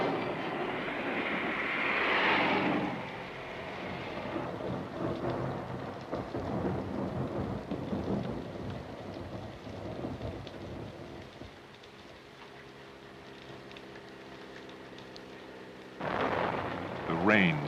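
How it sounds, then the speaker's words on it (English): A 16mm film soundtrack carries heavy rain and a thunderstorm, with rumbling thunder over a steady wash of rain. It is loud at the start, settles into a lower rumble, then surges again near the end. "The National Weather Service tells us heavy rains and thunderstorms are expected."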